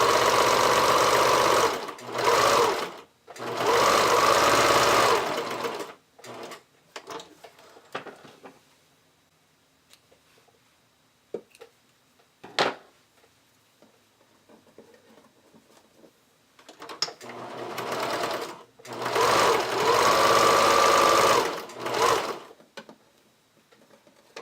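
A sewing machine runs zigzag top stitching to fold elastic in place on a thong, in two fast, steady bursts near the start and again later, with quiet handling and faint clicks between.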